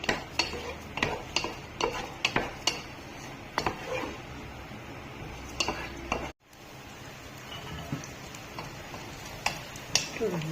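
Pieces fry in ghee in a pan with a soft sizzle, punctuated by repeated metallic scrapes and taps of a spoon, while a voice speaks briefly.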